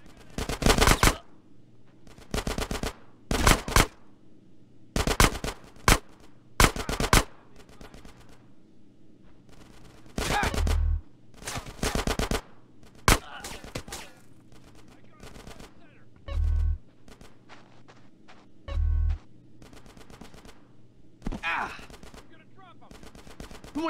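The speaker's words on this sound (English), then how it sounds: "get some suppressing fire in there!" Repeated bursts of automatic gunfire in Grand Theft Auto: San Andreas, loud and close, come in short volleys separated by brief pauses, with a few single shots and faint voices between them.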